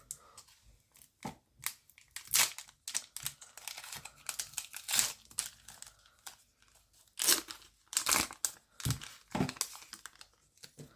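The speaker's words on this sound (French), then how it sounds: "nous allons ouvrir le deuxième booster de Pokémon Go." A Pokémon Go trading card booster pack wrapper is torn and crinkled open close up, with irregular bursts of foil rustling and ripping separated by short pauses.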